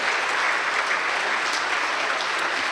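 A banquet crowd at a sports hall of fame dinner breaks into a big round of applause, thick steady clapping from many people filling the hall, with no voices on top.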